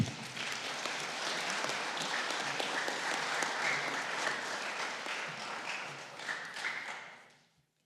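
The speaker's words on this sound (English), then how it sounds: "How about another round of applause?" A crowd at a community event honoring Black baseball players of the Negro League tradition in Southern Maryland claps steadily for several seconds, a dense even roar of hands that fades out at the end.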